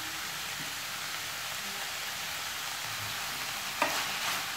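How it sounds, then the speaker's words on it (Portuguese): Chicken sautéing in a pan with green, yellow and red bell pepper, onion and four garlic cloves, giving a steady, even sizzle throughout with a brief stir or clink near the end. "Refoga tudo muito bem."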